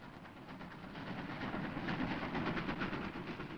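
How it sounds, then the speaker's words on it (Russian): A train runs along rails with a rhythmic clickety-clack that grows slightly louder, heard as a faint archival recording with a muffled, rumbling tone. "Первый поезд с большой земли."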